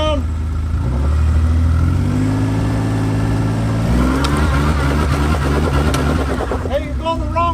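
A Toyota Land Cruiser FJ40's engine revs hard off-road, its pitch climbing and falling in repeated surges, loud and close, with voices faint underneath.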